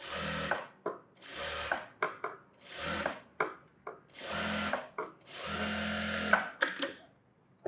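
A tailoring sewing machine stitches blouse fabric in short stop-start runs, its rapid mechanical chatter quite faint and close, separated by brief pauses and small clicks.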